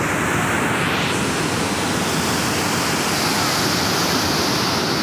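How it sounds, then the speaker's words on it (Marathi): A waterfall rushes loud and close near a Shiva temple, a dense unbroken roar of falling water with no pauses. "हा बघा धबधबा."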